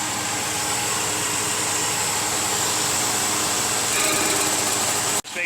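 A hot rod's engine cooling fan running while the fan clutch is tested, giving a loud, steady, close whooshing roar that swells slightly near the end and then cuts off abruptly.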